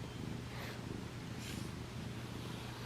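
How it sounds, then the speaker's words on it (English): Soft, steady cat purring up close, a low continuous rumble with faint rhythmic swells, quiet and uninterrupted by voices. "He's purring."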